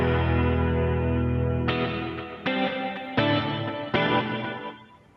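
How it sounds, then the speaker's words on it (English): Guitar chords ring through a delay and reverb effects pedal, each strum blooming into a long wet tail; a sustained chord gives way to four more strikes, each decaying into lush reverberant wash. "now I have plenty of reverb to play with."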